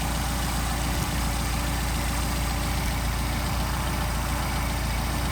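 A Mercedes 190SL engine with Solex carburetors idles at a steady, even rumble, close and continuous throughout, with no voices.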